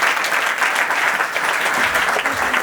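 Audience at a financial services launch event in Johannesburg applauds a speaker, a full, even roar of many hands clapping continuously and loudly throughout.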